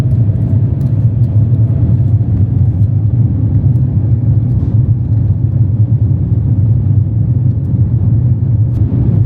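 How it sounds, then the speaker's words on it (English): A China Southern Airbus A350 takes off, its engines making a loud, steady low rumble that stays even and continuous throughout, with no voices. "The A350 is definitely one of the quieter aircraft out there. You really notice the difference when taking off."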